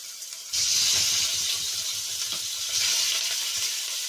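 Loud, steady sizzling of meat frying in a hot pan, starting abruptly and continuing with crackling pops and hiss throughout.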